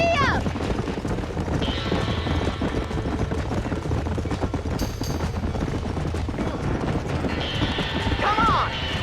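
Horse hooves galloping and clattering in Red Dead Redemption as a barn burns, steady rhythmic clip-clop under dense game noise, shouting voices and fire crackle, with a loud close presence throughout.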